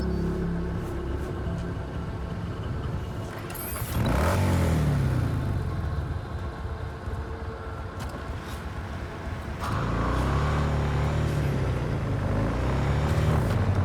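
A car in Cyberpunk 2077 drives steadily with a continuous mid-pitched engine hum, swelling as it revs up around four seconds and again near ten seconds, with no talking over it.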